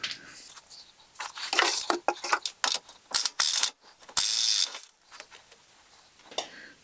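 Ratchet working a 21 mm nut on the tie rod of a 2013 Ford F150, close rapid bursts of clicking in irregular strokes separated by brief pauses, some bursts longer and louder than others.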